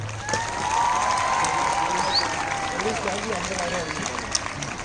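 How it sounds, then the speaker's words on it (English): Students at a school annual sports meet clap for the sports champions, a steady crowd applause sustained through the whole stretch at moderate level, with a faint voice or two over it. "Let's give them a clap."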